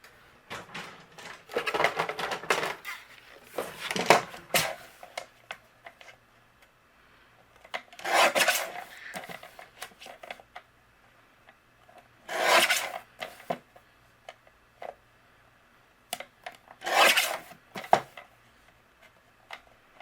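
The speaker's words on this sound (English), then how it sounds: "I am going to take my paper trimmer, and what I'm going to do is take just to keep it centered" A rotary paper trimmer slices a quarter inch off the edges of cardstock for a travel-themed handmade card, giving five separate raspy cutting strokes, each a second or two long, close up with quiet pauses between them.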